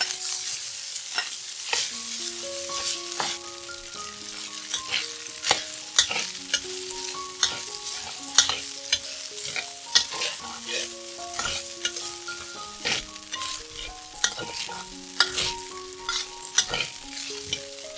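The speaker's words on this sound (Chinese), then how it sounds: "然后倒入豆腐碎、酥油渣，炒一炒" Crumbled tofu and fried shallot crisps are stir-fried for a Thai basil tofu dish, with a soft sizzle under rhythmic scraping strokes of a spatula. Gentle melodic music plays quietly underneath.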